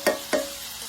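Wild shrimp cooking in a pan over a gas flame, with two short sizzling bursts rising quickly and trailing off against a soft steady background hiss.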